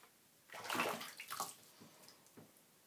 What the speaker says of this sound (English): let's go ahead and just put it in the water and treat it like a regular bath bomb